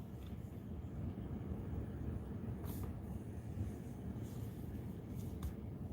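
Strong wind buffets a Lake Erie beach at Walnut Creek, just west of Erie, right after a storm's rain; a steady, rumbling roar fills the clip throughout with slight gusty swells and no talking.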